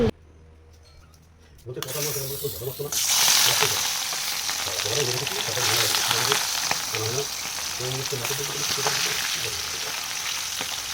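Katla fish slides into hot oil in a wok and erupts into a loud, steady crackling sizzle after a quiet start, with a voice talking faintly underneath.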